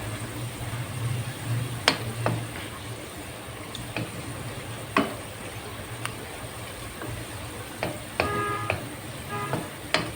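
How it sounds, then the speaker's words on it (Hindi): A spoon stirring onions frying in a pan, with soft scrapes and clinks every second or so over a low, steady sizzle. "चमचा आपने लगातार इसमें इस तरह मिक्स करना है चमचे से"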